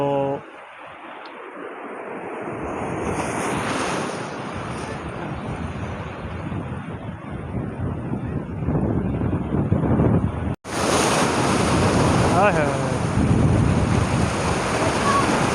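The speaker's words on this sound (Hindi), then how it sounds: "बड़ी तेज़ और ख़तरनाक लहरें मौजूद हैं मुबारक विलेज के साहिल पर" Strong, dangerous ocean waves crash and surge at Mubarak Village beach in Karachi, a loud continuous roar with heavy wind buffeting the microphone and a brief dropout midway.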